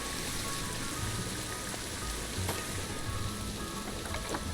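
Rain falls in the Planet Zoo video game, a dense, even hiss of rainfall with scattered drop patters throughout and no talking.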